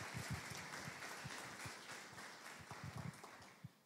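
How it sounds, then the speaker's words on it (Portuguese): Congregation applauding during a Portuguese-language church service, a steady wash of clapping from many hands at moderate distance that fades slightly toward the end. "Aplaudam o Senhor pela vida desses voluntários."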